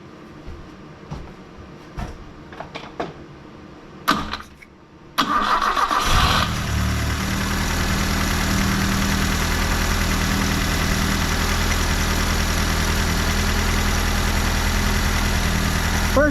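A Fiat 124 Spider 2000 with a newly installed carburetor and single plane intake cranks with a few clicks and taps, catches, and settles into a steady, loud, even idle that runs on close by.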